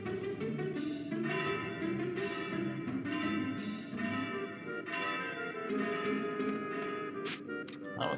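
A tower bell in Final Fantasy IX, rung by pulling its rope, strikes repeatedly in a steady rhythm, each bright clang ringing over a sustained low hum of music and ambience.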